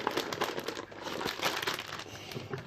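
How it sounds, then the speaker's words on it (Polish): Plastic wrap on a parcel of Christmas-themed building blocks crinkles and crackles continuously at close range, with steady irregular rustling throughout and no speech. "No dobra, no to tak ładnie bym tą folię otworzył."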